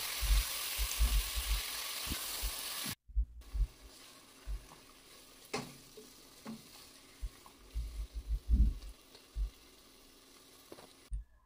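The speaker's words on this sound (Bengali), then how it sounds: "আর এইদিকে মশলাটাও কষানো হচ্ছে" Spice masala frying in a pan for Bengali chicken kosha, a steady close sizzle with intermittent stirring scrapes and soft clatters, the hiss strongest at first and then settling into quieter crackling.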